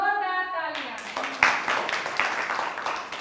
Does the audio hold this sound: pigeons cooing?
no